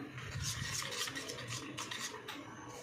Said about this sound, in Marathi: हे गुलाबी रंग टाकलेला आहे मी याला आपण मिक्स करून घेऊया